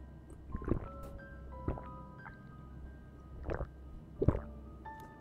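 Several wet squishy gulps and drips from a character drinking water in the horror game Fears to Fathom: Home Alone, spaced out over a low ambient hum, with faint tonal chimes between them.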